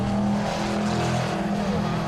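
Race cars in a Roadsports race at Donington, including a Cobra, a BMW Z3 and Toyota MR2s, roar past on the track with a loud, steady engine drone throughout.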